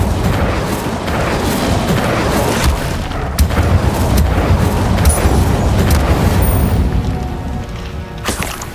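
Spell effects from the Hogwarts Legacy video game, including fire, summoning and disarming spells, make a continuous loud barrage of booming bursts and crackling impacts, dense and relentless with sharper cracks scattered throughout.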